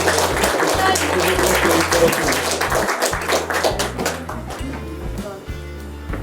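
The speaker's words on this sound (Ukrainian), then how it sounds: "Оплески, будь ласка." Applause at a scholarship award ceremony for students in the Palanka community, a loud burst of many hands clapping over a thumping musical backing that tapers off toward the end.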